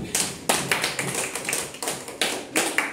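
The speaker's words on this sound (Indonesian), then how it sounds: "Tepuk tangan untuk kalian semua." Classroom applause for students' creative recycling projects: a burst of quick, uneven hand claps that rises and falls in loose waves, fairly close and without talk.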